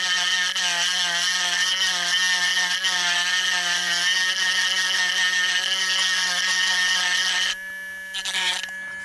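A cordless rotary tool whines at high speed as it smooths a small lump, a steady buzzing drone with a harmonic ring that shifts slightly in pitch near the end as the load changes, heard close with no speech.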